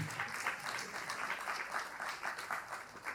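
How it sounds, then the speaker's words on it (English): Applause from a conference audience, steady and continuous throughout, moderately loud with a dense patter of many hands clapping at once. "A round of applause one more time, ladies and gentlemen."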